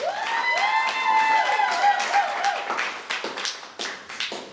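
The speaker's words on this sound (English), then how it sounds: "So let's give Jaybee, Rob, and Cathy a round of applause" An audience applauds at a real-estate brokerage panel event, dense clapping mixed with bright ringing tones that fades into scattered individual claps toward the end.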